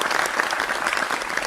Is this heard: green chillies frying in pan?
no